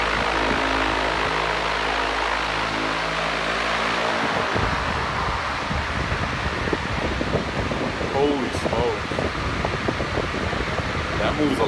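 A Home Depot shop fan roars steadily at close range, a broad whooshing drone that rises as it switches to its high setting, with brief talk over it.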